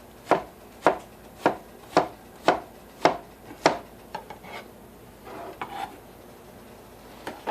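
A knife slicing through food on a cutting board while game hens and peppers are prepared: six or seven crisp, evenly spaced chops up close, followed by a few softer, irregular cuts and scrapes.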